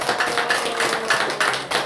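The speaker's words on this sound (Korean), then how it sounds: "박수하겠습니다." A church congregation applauds during a Sunday worship service, a short burst of steady, moderately close hand clapping that carries on unbroken with no talking over it.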